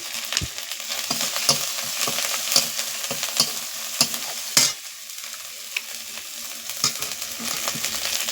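A paste of ground cumin, fennel and coriander fries in a pan with a close, crackling sizzle. A spoon stirs it in a series of sharp, regular scrapes and knocks.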